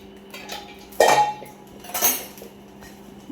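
Rice in a cooking pot is stirred with a metal spoon, making two distinct clanking scrapes against the pot about a second apart over a quiet background.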